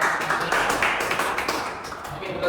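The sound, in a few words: classroom applause for two groups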